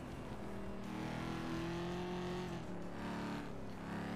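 Steady car engine drone in the FlatOut 2 racing game, a continuous revving hum with shifting pitch that swells and dips across the stretch, loud and close with no talk over it.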